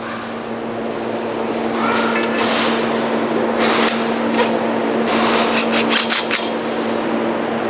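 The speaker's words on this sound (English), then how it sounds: "We're gonna acetone and Scotch Brite. Make sure that this is gonna be a super clean part." An exhaust part for a turbo V6 Mercedes GLE M276 being scrubbed with acetone and a Scotch-Brite pad, a steady close rubbing that turns into quick back-and-forth scouring strokes toward the end, with no talk.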